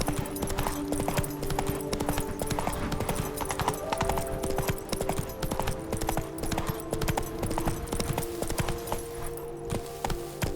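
A horse's hooves clip-clop steadily and quickly in the video game The Witcher 3: Hearts of Stone, a continuous galloping rhythm over sustained in-game music tones.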